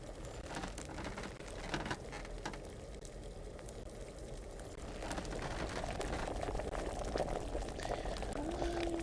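A cauldron boils during potion brewing in Kingdom Come: Deliverance, with a dense, bubbling churn and scattered pops throughout that swell slightly louder in the second half and carry no speech.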